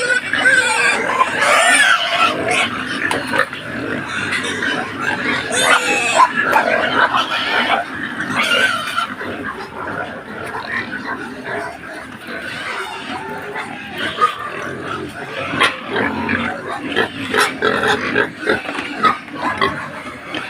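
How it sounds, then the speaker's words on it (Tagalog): Pigs at a farm grunt and oink loudly and continuously while being fed, a dense chorus of snorts and squeals with voices talking underneath. "A pig. Feeding the pig."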